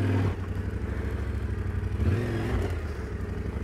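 Off-road motorbike engine chugging steadily at low revs as the rider feathers the clutch and turns the front wheel on a hillside trail, with a brief rise in revs partway through and loud, continuous mechanical clatter.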